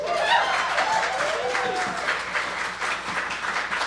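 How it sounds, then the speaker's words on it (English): Coffee lounge audience applauding the singer Hannah after her song, a moderate steady patter of clapping from a small crowd, with faint voices mixed in. "All right, one more round of applause for Hannah, please."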